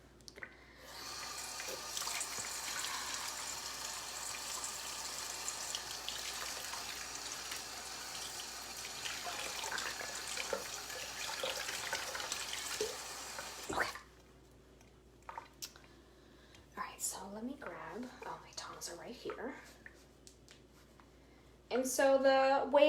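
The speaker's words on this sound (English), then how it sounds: "Let me wash my hands really quickly." Water runs steadily from a kitchen sink tap for about fourteen seconds while hands are washed beneath it. Afterward come soft splashes and handling noises, and a voice speaks near the end.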